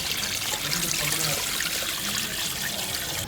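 Water running and splashing steadily over fish pieces being rinsed after a turmeric mix in a kitchen, a continuous close trickle with no talk.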